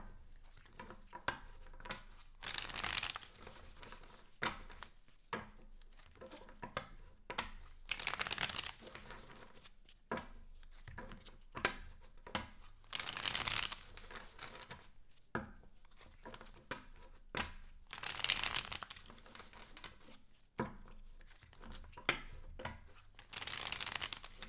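Tarot cards are shuffled by hand in a series of quick, crisp riffling bursts separated by short pauses, close and fairly soft, with no voices.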